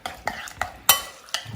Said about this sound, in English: I'm going to give that a mix together